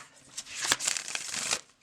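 A stiff, satin-finish tarot deck with playing-card-like cardstock is shuffled by hand, a quick, close riffle of crisp card flutters lasting under two seconds, with no talking.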